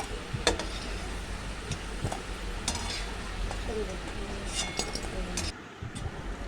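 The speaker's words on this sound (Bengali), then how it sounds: "ওই তেলেই আমি দিয়ে দিচ্ছি টুকরো করে কেটে নেওয়া আলুগুলোকে" Cut potato pieces fry in hot oil for a fish egg fritter curry, a steady close sizzle with occasional stirring scrapes and light clinks of a utensil against the pan.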